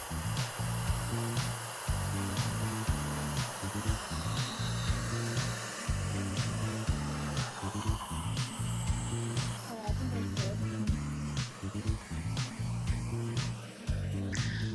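Hair dryer blowing on curly hair at high heat and high speed, a steady loud whooshing drone running throughout with a faint shifting rumble as it is moved around the hair, close and continuous.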